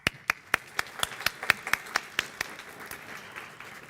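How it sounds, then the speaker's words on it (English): Master in Finance students at a business school opening ceremony applaud themselves, a faint, sparse run of distinct claps that thins out toward the end. "please give yourselves a round of applause"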